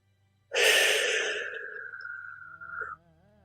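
A single deep, forceful exhale during a breathing exercise, close and breathy, lasting about two and a half seconds and tapering off at the end.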